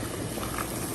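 Water boiling in a cooking pot before potatoes are added, a steady close bubbling and hiss that runs unbroken for the whole second with no talk over it.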